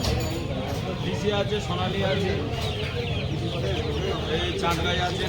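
Chickens cluck continuously nearby at a village poultry market amid a busy background of voices and crowd noise.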